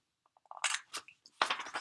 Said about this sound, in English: And then I'm going to use my circle corner punch.